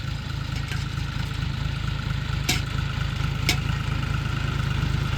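A tractor engine idles in a steady, rumbling low throb with regular mechanical pulses, close and continuous in a groundnut field at sowing time, with a couple of faint clicks over it.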